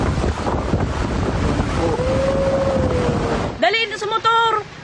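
Storm waves surge and crash at Legazpi, Albay, flooding the city boulevard, in a loud, continuous roar of surf and buffeting wind, with a voice speaking briefly at the end.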